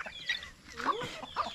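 A lame duck is called over and fed, letting out a few short clucking, quacking calls close by, with soft voices in the background.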